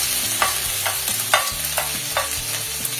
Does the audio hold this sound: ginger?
yes